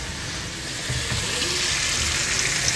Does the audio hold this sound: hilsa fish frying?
yes